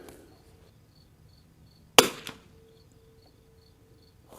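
A single sharp rimfire rifle shot from a Winchester 52 or Zermatt RimX at an outdoor range, loud and close, followed by a brief echoing tail and a faint second crack, with quiet background before and after.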